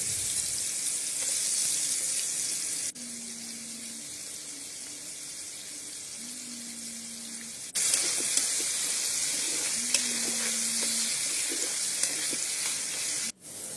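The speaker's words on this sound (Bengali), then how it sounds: "প্রথমে আমি কড়াইতে আলু দিয়ে দিলাম আলুগুলো ভেজে নেবো" A steady hiss of potatoes frying in hot oil in a wok runs throughout, with a few cuts and faint low hums breaking the sizzle.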